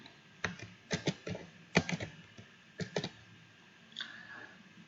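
Sparse typing on a computer keyboard, a few distinct key clicks in small clusters with pauses between them, fairly faint over a quiet background.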